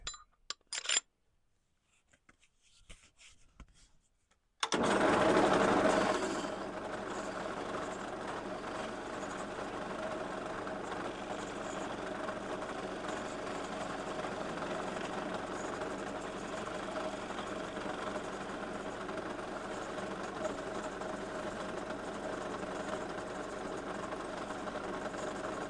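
A wooden spindle being turned on a lathe with a spindle gouge, starting after a few seconds of near silence: a steady, loud motor hum and continuous cutting hiss hold evenly for about twenty seconds, with no talking.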